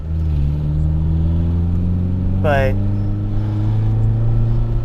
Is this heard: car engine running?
yes